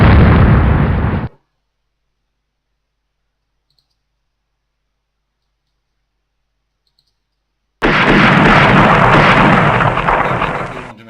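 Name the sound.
naval gunfire and explosions from Rule the Waves video game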